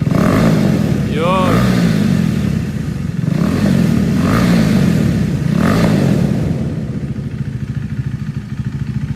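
KTM RC390 motorcycle engine revving through its exhaust, with three or four sharp rising blips over a steady close idle, while people talk nearby.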